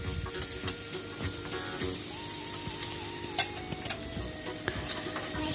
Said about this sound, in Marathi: तेल छान गरम झाले की आपण त्याच्यात बारीक चिरलेला कांदा आहे